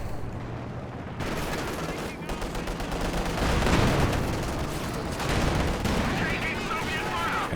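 Katyusha rocket barrage in a strategy war game, a wide-scattering long-range salvo: continuous rumbling roar of rapid launches and blasts, steady and dense throughout with crackling impacts, some speech faintly underneath.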